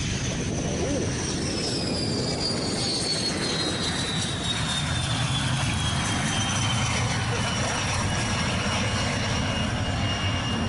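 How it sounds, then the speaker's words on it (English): A MiG-21 jet flown by two female pilots passes overhead at a North Korean air show, a broad steady roar with a falling whine that fades slowly as it moves away, loud throughout with no talk. "A pair of female pilots were piloting the MiG-21."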